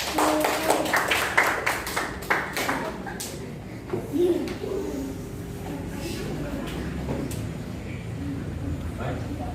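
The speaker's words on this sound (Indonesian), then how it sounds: "Tepuk tangan buat kelompok karet dijamin awet." Classroom children clap for a discussion group, bursts of close, sharp claps early that thin out to sparse taps, with faint murmuring in the room afterward.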